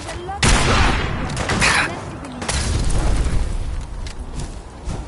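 Bursts of gunfire and booming shots from a firefight against enemies in Fallout 4, loud and close, with a sharp volley near the start and further shots scattered through a busy battle mix while voices shout.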